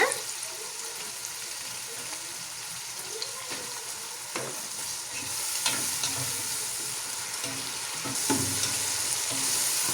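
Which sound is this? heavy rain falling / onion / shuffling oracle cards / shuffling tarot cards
onion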